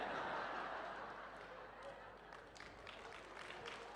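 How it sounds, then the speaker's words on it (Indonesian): A church congregation applauds during a sermon in a diffuse, moderate wash of clapping, with scattered laughter mixed in. "Ibu-ibu langsung tepuk tangan."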